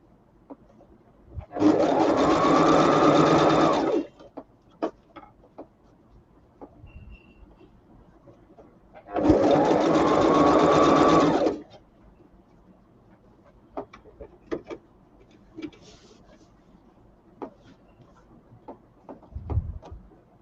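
A sewing machine runs in two steady bursts of about two and a half seconds each, stitching elastic onto the sleeve of a baju kurung, with quiet gaps and small handling clicks between runs.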